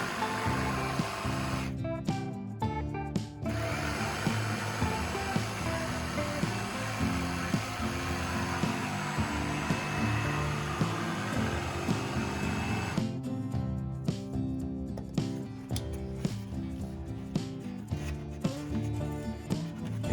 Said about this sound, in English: The block comes down and is cut with the jigsaw.